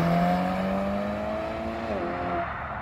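A Ferrari California sports car accelerates at a supercar meeting, its engine note climbing smoothly in pitch then stepping up after a gear change, loud and close before fading slightly as it pulls away.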